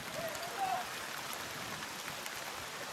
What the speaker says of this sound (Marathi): आणि कम्प्लीट खाताना पाऊस आलाय